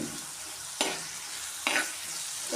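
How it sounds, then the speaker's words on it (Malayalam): Chopped onions, green chillies and curry leaves sautéing in oil for a theeyal, heard as a steady sizzle cut by two sharp spatula strokes against the pan, close and without voices. "ഇതിലേക്ക് അരിഞ്ഞു വെച്ച ഉള്ളിയും പച്ചമുളകും കറിവേപ്പിലയൊക്കെ ഇട്ട് കൊടുത്തിട്ടുണ്ട്."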